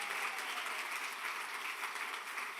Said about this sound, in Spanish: Aplaude a Cristo y di un fuerte amén en esta mañana.